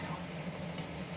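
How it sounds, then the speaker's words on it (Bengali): A spoon stirs a spicy Pabda and Tangra fish curry with coriander leaves in a pan, a brief close-up of soft scraping under a low steady sizzle. "এবার আমি এটাকে নেড়ে নেব, নেড়ে নামিয়ে নেব।"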